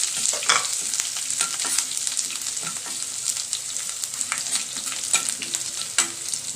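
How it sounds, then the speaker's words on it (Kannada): Ginger and green chillies fry in hot oil in a pan, a continuous close sizzle broken by scrapes and stirring clicks from a spoon, with no talking. "ಹಾಗೆ ನಮ್ಮ ಶುಂಠಿ ಮತ್ತು ಹಸಿರು ಮೆಣಸಿನ್ಕಾಯಿನೂ ಹಾಕ್ಬಿಡೋಣ."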